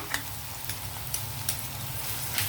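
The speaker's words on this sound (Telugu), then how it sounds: "ఈ అల్లం వెల్లుల్లి కూడా మనకి పచ్చివాసన పోయేటట్టుగా కొంచెం వేగనిద్దాం" Ginger garlic paste frying in a pan for a village-style chicken curry, a steady soft sizzle with occasional light stirring clicks, close and alone.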